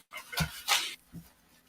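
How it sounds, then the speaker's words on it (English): Dogs indoors let out a couple of sharp whimpering yelps and a short bark in quick succession, close and fairly loud, followed by a softer whine. "Hang on, my dogs they're being so bad today."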